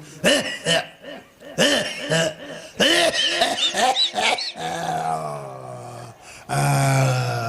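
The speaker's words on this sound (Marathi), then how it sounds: "म्हातारा खोकलं तर आणि म्हातारा खोकलं" During a comic kirtan, a voice acts out an old man's coughing, with a string of rough, hacking coughs and groans, then drawn-out strained vocal sounds, loud and close.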